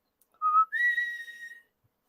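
A person whistling by drawing breath inward, two close, clear tones, a short low note, then a longer, higher one that wavers and fades, with no talking.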